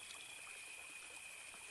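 River water flows steadily in the Dark Rites of Arkham video game, a constant soft trickling stream with a thin high tone running beneath it, and no one speaking.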